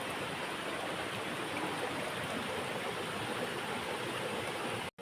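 Water rushes steadily from a stream below the Insuli waterfall near Sawantwadi, a dense, even broadband roar filling the whole stretch before cutting out abruptly at the very end.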